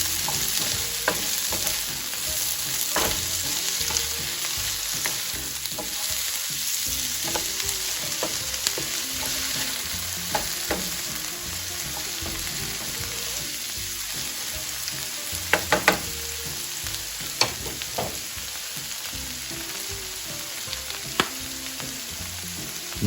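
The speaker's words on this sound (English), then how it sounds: "Move all your veggies around, get them nice and incorporated into that olive oil." Vegetables sizzle in olive oil in a pan while being stirred, a constant bright frying hiss with scattered scrapes and clacks of a utensil, no speech.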